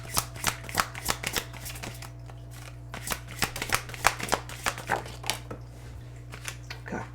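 Tarot cards are shuffled and handled on a surface in quick clusters of crisp riffles and slaps, close and fairly loud, with short pauses between bursts over a faint steady hum.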